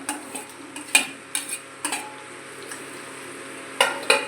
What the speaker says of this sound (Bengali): এভাবে সম্পূর্ণ মানকচু দিয়ে ভালো করে খুব স্লো আছে এটা কষিয়ে নিব